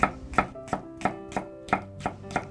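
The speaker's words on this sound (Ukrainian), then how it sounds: "Нарізаємо перець соломкою." A knife slices bell peppers into thin strips on a cutting board, eight or nine crisp, evenly spaced chops ringing out close and clear with no voices.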